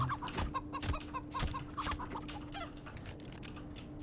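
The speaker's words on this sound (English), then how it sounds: "Dude, that chicken is durable." A chicken in a Source engine video game map clucks repeatedly in short, irregular bursts, fairly close and loud over a steady low hum, with no talking.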